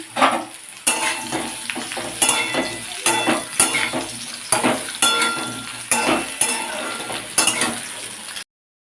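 Eggplant and green chilies frying in hot oil for a hilsa fish curry, a steady crackling sizzle broken by repeated clinks and scrapes of a spoon stirring in the pan, close and fairly loud throughout.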